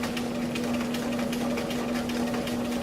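A sewing machine top stitching a row along an apparel cuff, running as a close, loud, continuous whir with a steady motor hum and no talking.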